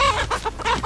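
Chickens cluck close by in a quick run of short, throaty calls over a low rumbling background, with no talking.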